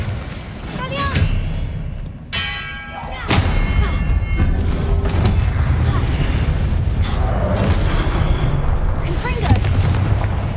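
Spell blasts in a wizard-themed video game: a series of booming, thudding magic impacts with crackles and bright bursts, loud and close, repeated over several seconds amid dense game effects.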